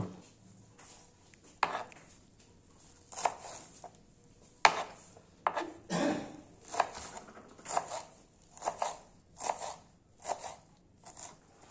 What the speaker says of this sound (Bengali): এরই মাঝে আমরা ধনেপাতা ভালোভাবে কুচি করে নেব